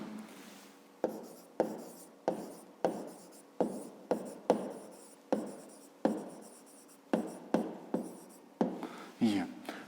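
Pen or pencil writing an answer in a notebook for a fifth-grade maths exercise, with close, rhythmic scratching strokes in short bursts and taps between them, while a voice speaks quietly over it.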